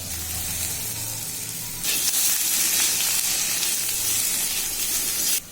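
Potato and eggplant pieces fry in hot oil in a pan, giving a steady sizzle that surges loudly as more pieces go in and then holds a bright, continuous hiss until it cuts off abruptly.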